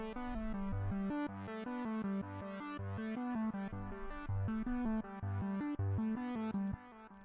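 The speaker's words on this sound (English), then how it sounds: "So the riff is this, called Plectrum Pad, and it sounds like this." A synthesizer riff on a plucky Plectrum Pad patch repeats a bright, rhythmic pattern of short, evenly spaced notes over a sustained harmonic bed, played clearly and alone at a steady level.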